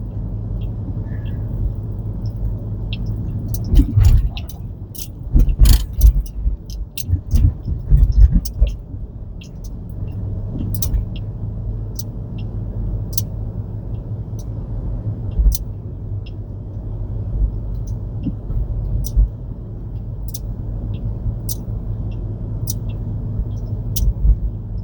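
Rideshare car driving through Honolulu streets, a steady low road rumble with scattered clicks and a few louder bumps of passing traffic, while people talk intermittently inside the cabin.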